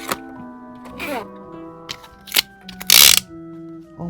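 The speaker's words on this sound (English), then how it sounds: "So first thing I see here is a tape measure." A cheap dollar-store tape measure being worked by hand: scattered close clicks and ratcheting clunks, then one loud rasping burst as the blade runs, followed by a few more clicks.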